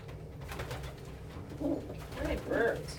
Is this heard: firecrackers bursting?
no